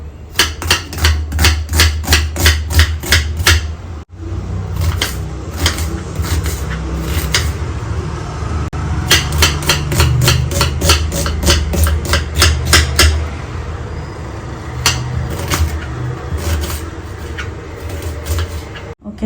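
An onion is chopped into small pieces with a knife, sending rapid bursts of sharp, close board taps in quick regular runs separated by brief pauses.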